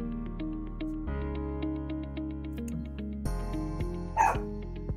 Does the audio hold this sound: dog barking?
yes